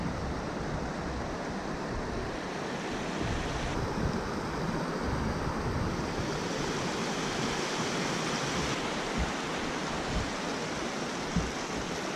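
Boulder Creek in Jasper National Park rushes past in a steady, loud broadband wash of flowing water, close by and unbroken, with no voices.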